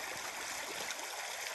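River rapids in the Sipsey Wilderness, a steady broadband rush of fast water with no breaks, loud and close.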